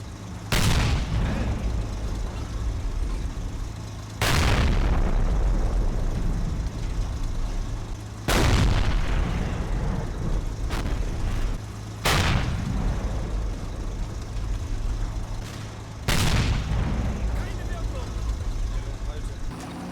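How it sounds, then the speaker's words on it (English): In the WWII tactical game Combat Mission Red Thunder, an anti-tank gun fires five heavy booming rounds at a tank, about four seconds apart, each blast loud and close with a long rumbling decay. "The anti-tank gun keeps bouncing rounds off that tank spotted in the village."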